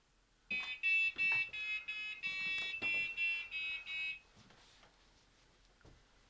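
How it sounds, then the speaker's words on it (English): A loud electronic alarm, the kind a household smoke or fire alarm makes, shrills in a run of fast, piercing beeps for about three and a half seconds, then cuts out and leaves faint room noise. "Set our alarm off, please."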